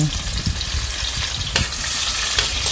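Tomatoes sautéing with onion and garlic in a hot pan for pinakbet, a loud, dense, continuous sizzle heard up close, with a couple of sharp utensil knocks and no talking.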